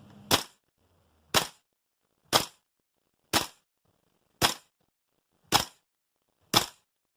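A Tokyo Marui MWS M4 gas blowback airsoft rifle with a heavy bolt and recoil buffer fires seven sharp, evenly spaced single shots, each a loud snappy crack in an otherwise quiet room.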